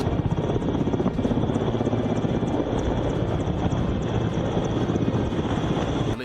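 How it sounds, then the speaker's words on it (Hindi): Rescue helicopter flying over flooded areas of northeast India, a steady, loud rotor drone with constant chopping throb that holds level throughout, with some wind buffeting and no voices. "हेलीकॉप्टर से भी लोगों का रेस्क्यू किया जा रहा है"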